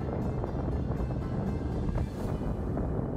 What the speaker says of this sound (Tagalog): Medyo windy ngayon.